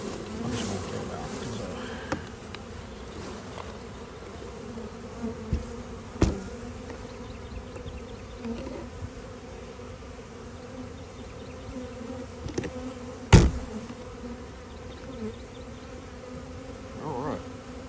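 Honeybees buzzing steadily around an apiary hive, a continuous droning swarm close to the microphone with a few sharper knocks and handling bumps, a person speaking faintly now and then.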